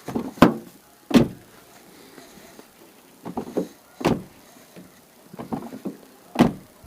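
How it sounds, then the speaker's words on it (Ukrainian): Several sharp thuds of a Mitsubishi Eclipse Cross door shutting after crash repair, each a short hard impact with pauses between, plus softer clunks and rattles of the mechanism. "Двері закриваються"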